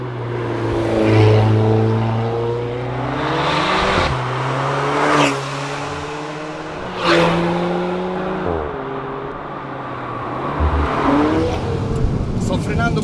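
An Alfa Romeo 4C sports car revs and brakes on the road, its engine note rising and falling in close, loud pulls with gear changes, while someone talks over it throughout.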